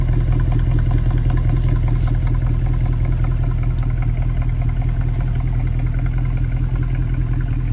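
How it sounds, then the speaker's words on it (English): A stock-exhaust Mercedes C63 AMG W204 V8 sits idling, giving a steady, deep low rumble with an even pulsing beat, close and loud and alone. "Even at idle, it has a heartbeat, a deep metallic ground that reminds you that it's alive."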